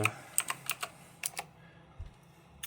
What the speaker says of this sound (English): I have to type it very fast